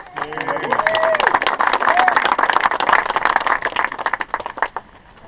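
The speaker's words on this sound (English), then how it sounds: "give yourselves a big round of applause for coming out" A crowd applauds at the opening event of the Keane Wonder Mine, with dense clapping building quickly and running steadily for several seconds before tapering off, mixed with voices talking through it.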